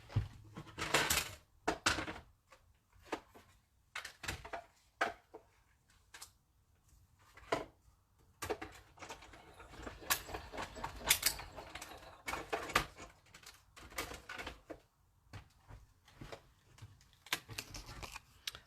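A paper die-cut machine runs through a stamping craft card in bursts, with clicks, rustles and cranking sounds starting and stopping at irregular intervals, close by; no talking.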